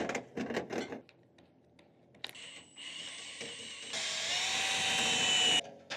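A power drill spinning a dryer vent cleaning brush whirs steadily at high pitch, loud and close, then cuts off; brief scraping and rustling comes before it starts.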